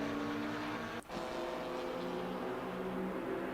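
Engine drone of McLaren and Audi GT4 race cars in Assetto Corsa Competizione at Silverstone, a steady continuous roar held at an even level with one brief dip around the one-second mark, no voices.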